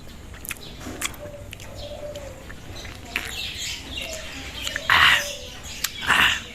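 Outdoor birds at a hacienda chirp while doves coo in short, repeated phrases, with a few louder bursts and flapping near the end, faint speech in the background.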